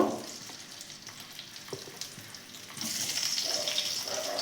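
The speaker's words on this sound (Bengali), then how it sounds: "ছোট আলুগুলো আমি অল্প নুন দিয়ে সেদ্ধ করে নিয়েছি এই আলুগুলো দিয়ে একবার ভেজে নেব" Small salted boiled potatoes frying in white oil in a wok, a soft steady sizzle with a few light knocks, swelling into a brighter, louder hiss over the last seconds; no talking.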